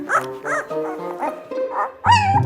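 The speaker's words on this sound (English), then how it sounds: "This fussy pup just can't seem to settle down." A Samoyed puppy lets out a string of short, high yips and whiny barks, several in quick succession, ending in a louder, drawn-out whimpering yelp.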